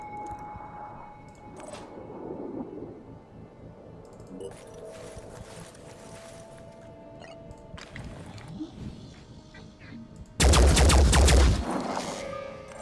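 A burst of gunfire in the video game Phoenix Point erupts loudly near the end, standing out sharply against a quiet, murmuring game backdrop.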